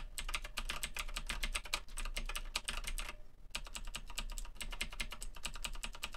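Rapid, continuous clicky keystrokes on an Onn gaming mechanical keyboard, close and crisp, with one brief pause midway and no talking.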